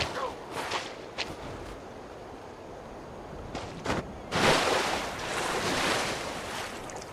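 In Genshin Impact a boat carves through ocean waves, with splashing surf, rushing water and wind swelling into a steady wash after a few sharp splashes and whooshes.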